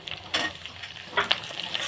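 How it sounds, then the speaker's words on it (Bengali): Short burst of frying in oil with onions, a soft hiss with a few sharper crackles and pops scattered across it. "বেশ কিছুক্ষণ ভেজে নিচ্ছি"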